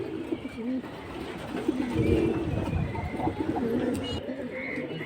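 Pigeons coo steadily at a busy Bangladeshi pigeon market, soft overlapping calls near and far over a murmur of crowd noise and faint chirps.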